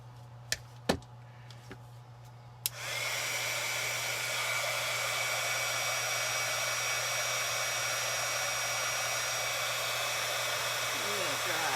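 A hair dryer blasts a St Patrick's Day shamrock craft, switching on after a few light taps and then roaring steadily and loudly up close until the end.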